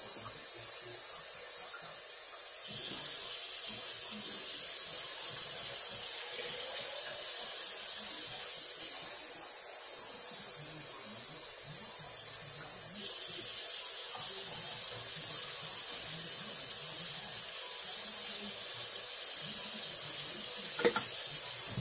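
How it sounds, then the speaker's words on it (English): Tap water runs steadily into canning jars in a kitchen sink, a continuous hissing splash lasting throughout with slight changes in tone as the flow shifts. "turn on the water in the sink,"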